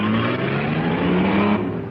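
A car engine runs steadily and fairly loudly as the vehicle drives off, a continuous motor hum with no voices over it.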